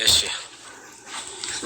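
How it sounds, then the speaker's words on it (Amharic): A neighbour's small dog gives a brief whimpering yelp near the start, close by, followed by quieter sounds under people talking. "የጎረቤ ውሻ ነው ትንሽ"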